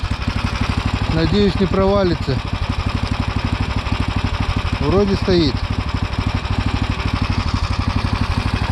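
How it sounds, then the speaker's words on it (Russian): A vehicle engine left running at idle on a frozen forest lake's ice after a heavily loaded stop, a steady close low rumble throughout, with someone talking over it. "Двигатель заглушать не будем."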